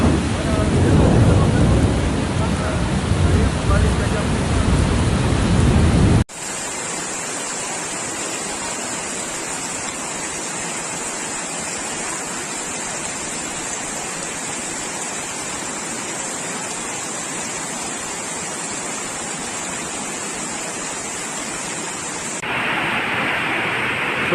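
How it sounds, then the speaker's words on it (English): Very heavy rain pours steadily during flash flooding in Kajang, Malaysia, a loud dense hiss that continues unbroken, harsher and closer at the start. "Oh, very heavy rain."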